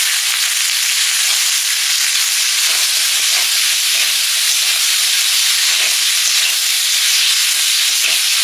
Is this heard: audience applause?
no